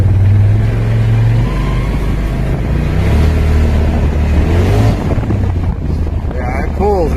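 A 2020 Polaris RZR Pro XP Premium side-by-side accelerates hard, its engine a loud, close, continuous rumble that rises under heavy wind buffeting on the microphone, with a voice heard briefly.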